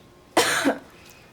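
One loud, forceful cough up close, harsh and breathy, lasting under half a second before quiet returns.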